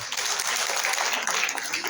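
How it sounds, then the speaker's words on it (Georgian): Audience at an award ceremony clapping, a dense steady burst of applause throughout the short stretch, fairly close and loud. "გთხოვთ შევეგებოთ ტაში"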